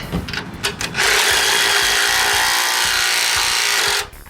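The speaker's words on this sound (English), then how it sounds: "Snug these bolts up." Power tool driving spring plate bolts snug on a 1967 VW Bus frame, a loud steady whirring run of about three seconds after brief clicks and handling noises.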